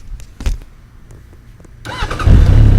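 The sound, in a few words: Suzuki Bandit GSF 1200 motorcycle engine starting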